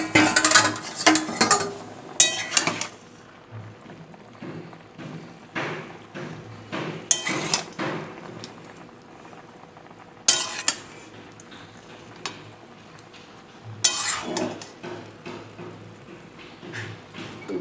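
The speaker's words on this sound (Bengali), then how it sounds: "দেখি এবার কতটা মজেছে, একটু নেড়ে দিই" A spoon stirs and scrapes spinach curry with bori, beans and eggplant in a pot over a medium gas flame, making repeated clinks and knocks, busiest at the start and in short bursts later, with no talking.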